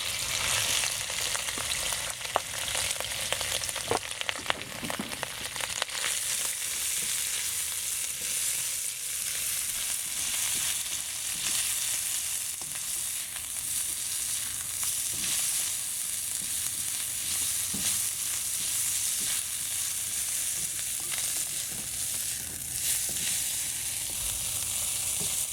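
Shrimp fry in hot oil in a pan, giving a steady, bright sizzle that crackles on for a long stretch with a few faint clinks, and no voices.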